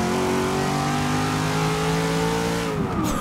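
Corvette C7 Z06 engine revving hard, a loud, close rising roar with a strong harmonic drone that sweeps upward and then cuts off near the end.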